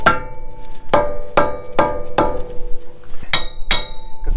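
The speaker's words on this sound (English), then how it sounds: "on this center part around here, you can tap that with a hammer" A steel hammer tapping the center of a Toyota FJ Cruiser brake disc during a front wheel bearing job, with about eight sharp metallic strikes in a steady rhythm, each ringing briefly, close and loud.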